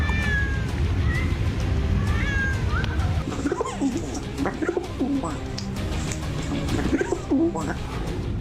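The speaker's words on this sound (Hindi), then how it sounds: "बारूद मैन किम बिल्लियों की म्याऊं सुनकर मेमना बना क्यों?" Cats in Beijing meow several times in rising, wavering cries, followed by a stretch of shorter calls and bird-like coos against steady background noise.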